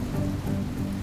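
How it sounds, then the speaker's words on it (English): Heavy tropical downpour falling on a cruise ship at sea, a steady, dense hiss of rain that stays loud and unbroken throughout, with no voices. "if the tropical downpour continues, there will be no choice but to cancel the party"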